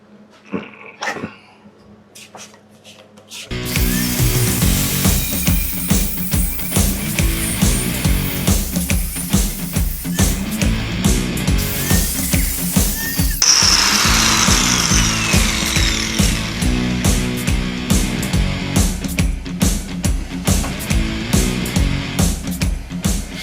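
A power tool cutting scrap metal while building a BBQ grill: a loud, close, continuous grinding whine with steady rhythmic pulsing that runs for about twenty seconds after a brief quieter start, with no talk.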